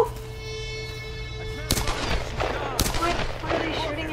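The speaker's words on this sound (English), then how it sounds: "What are they shooting at?" Two sharp, loud gunshots crack about a second apart in the video game Tomb Raider, standing out over a steady low hum and faint ambience.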